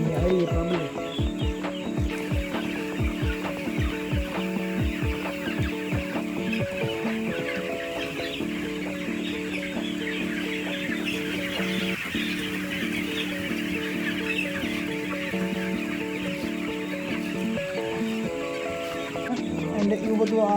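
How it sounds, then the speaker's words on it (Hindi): Chickens cluck busily nearby while running around an outdoor spot, a continuous chorus of clucks with people talking over them throughout. "मुर्गियाँ सारी भागकर कुछ इधर आ रही है, कुछ इधर आ रही है"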